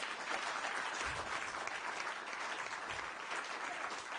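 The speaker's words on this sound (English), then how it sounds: "please welcome two of the organizers with a very, very warm applause here up on stage" Warm audience applause welcoming two student organizers onto the stage at a forum closing ceremony in Davos, a full, steady roar of many hands sustained throughout.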